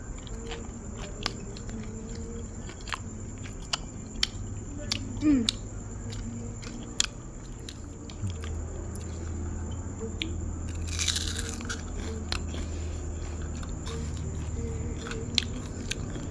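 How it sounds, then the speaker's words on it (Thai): Crunchy bites of fried tilapia with spicy Thai cucumber salad, heard as scattered soft crackles and chewing close to the microphone over a steady background hum, with a voice speaking between bites. "กรอบนะทุกคนแซ่บๆ"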